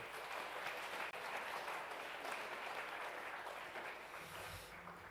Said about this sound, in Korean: 우리 힘찬 박수로 맞이해 주시면 감사하겠습니다